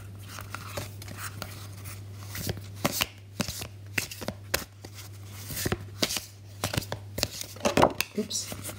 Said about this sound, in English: I'm just going to give the cards a bit of a shuffle.